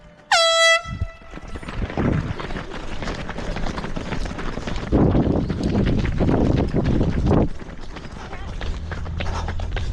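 A loud air horn blasts once at the start of a 5K road race, followed by a rush of runners' footsteps, wind noise and scattered voices as the crowd sets off.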